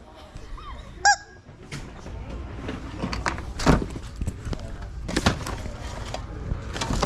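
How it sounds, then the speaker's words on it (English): Rubber chicken toy gives a short squeaky honk near the start, loud and close, followed by scattered rustling and handling noises in a busy indoor space. "Rubber chicken."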